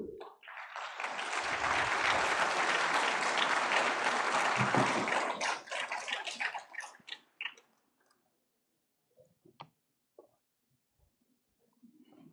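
Audience in a ceremony hall applauding an award winner at the INSPIRE Awards, a full, sustained round of clapping that builds quickly, holds for about five seconds, then breaks into scattered claps and near silence with faint stray sounds.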